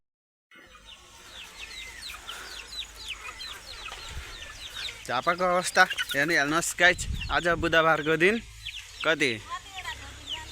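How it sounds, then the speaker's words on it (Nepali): Two roosters cluck and call near a small hut beside a maize field during windy evening weather, loud close clucking in bursts, with someone talking over them. "दुईटा भाले पसेको छ"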